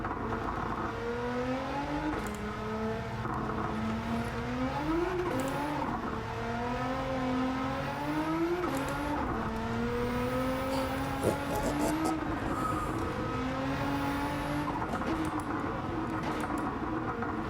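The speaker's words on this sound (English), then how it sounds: "Just listen to the gear down." A race car engine in Gran Turismo 7, a Nissan Silvia with a swapped engine, drops through the gears, its steady loud tone stepping up in pitch as it blips on each downshift, with no talk.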